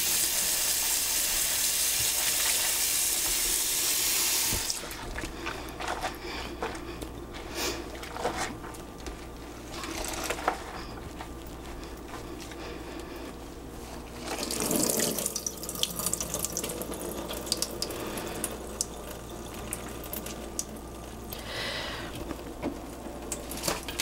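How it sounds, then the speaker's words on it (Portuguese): Tap water runs hard into a sink while a cotton doughnut is washed with soap, a steady loud gush at first that turns to splashing, squishing and rinsing sounds, with no voices. "Agora eu vou lavar com sabão"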